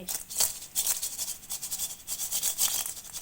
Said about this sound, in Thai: มาดูใกล้ๆเลย ฟังเสียงค่ะ กรอบขนาดใด